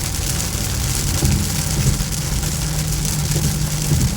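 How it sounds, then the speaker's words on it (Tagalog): Heavy rain pours down in a steady, loud hiss, with a low rumble of a passing car or engine underneath and no speech. "malakas ang ulan guys"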